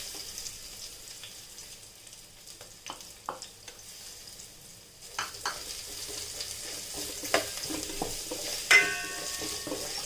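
Julienned onions sautéing in a pan, a steady soft sizzle with scattered clicks and scrapes of stirring that grow a little louder partway through.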